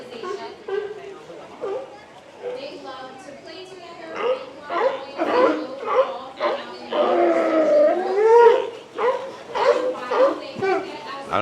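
Sea lions, including pups, bark, yelp and howl in a noisy overlapping chorus at close range, with loud rising wails among rapid barks throughout.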